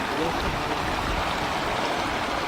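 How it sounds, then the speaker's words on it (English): Small waterfall spilling into an eroded gorge at Yolyn Am in the Gobi, heard as a steady broadband rush of falling water, close and continuous without a break. "This is describing a waterfall in its simplest terms, because this is the smallest one you'll ever see."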